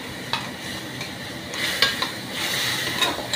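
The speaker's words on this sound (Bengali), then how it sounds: "এই সময় আমি ওই ধনে পাতা, আদা, রসুন, দইয়ের পেস্টটা দিয়ে দিচ্ছি।" Chicken frying hard over high heat as a paste of coriander leaves, ginger, garlic and yogurt goes into the pan, with steady loud sizzling and a few sharp clinks of a utensil stirring against the pot.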